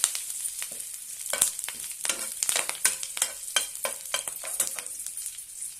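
Green and red chilies with curry leaves sizzle and crackle in hot oil in a pan for brinjal chutney, with irregular stirring scrapes over a steady close frying hiss.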